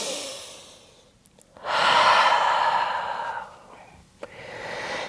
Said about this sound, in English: Taking a few rounds of breath right here.